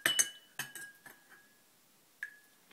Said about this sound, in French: j'aurai plus qu'à remuer pour avoir un mélange homogène